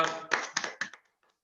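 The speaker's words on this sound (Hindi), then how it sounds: "आप लोगों के लिए तालियां।" A few sharp hand claps in a quick irregular burst, close and fairly quiet, fading to silence with one faint tap near the end.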